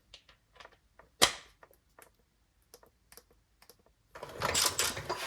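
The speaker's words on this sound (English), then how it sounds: "I might just have to try zipping it off with the impact" Impact wrench on a BMW E90-series 328i xDrive, zipping off a stubborn bolt near the transfer case: scattered taps and one sharp crack, then a loud, sustained rattling burst of the tool near the end, with no talking.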